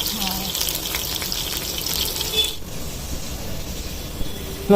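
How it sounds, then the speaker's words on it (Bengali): Potatoes fry in hot oil in a pan, a dense, steady sizzle that stays close and fills the whole stretch, with a voice faintly underneath. "আলুটা আগে ভেজে নিচ্ছি"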